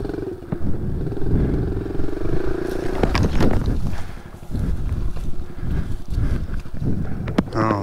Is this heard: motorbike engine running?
yes